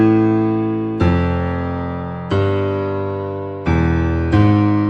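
A left-hand piano part of low, rich chords or bass notes, about five struck at a slow, uneven pace, each sustaining and slowly fading before the next, played alone.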